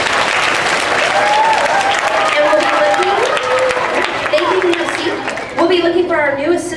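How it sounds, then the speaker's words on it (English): School assembly audience of children and adults giving a sustained round of applause, continuous and fairly loud, with children's voices calling out over the clapping. "So give them a round of applause."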